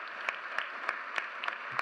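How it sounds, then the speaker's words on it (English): Audience applause at a 2023 Westminster commencement address: a steady, fairly faint wash of many hands clapping, with a few sharper claps standing out at irregular moments. "okay, we can clap for that"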